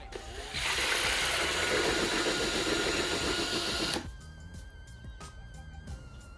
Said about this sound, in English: This is a great, it's super cool mixer from Rockset. It mixes fast and very efficient.